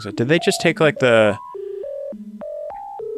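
Old-style telephone dialing tones from a song: a sequence of distinct steady pitched beeps of varying pitch, each held briefly, following a short stretch of someone talking.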